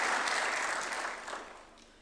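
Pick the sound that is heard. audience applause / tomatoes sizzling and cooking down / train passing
audience applause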